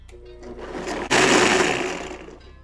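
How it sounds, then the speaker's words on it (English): Kitchen blender whirring soup ingredients with cilantro, building for a second, then surging into a loud, dense grinding roar that gradually eases, close and alone with no talk. "And we'll go ahead and blend that."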